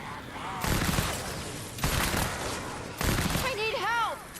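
Bursts of fire from the eight-barreled Bundlebuss assault rifle in Fortnite, three loud broadband blasts about a second apart, with whistling, warbling game effects after the last one.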